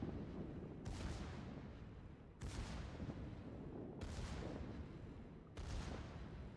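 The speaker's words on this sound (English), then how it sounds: "you actually can't sit there when there are secondary fire like this" Battleship secondary guns firing in a naval video game, four evenly spaced loud booming salvos, each followed by a rumbling decay.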